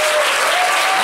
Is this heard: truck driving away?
no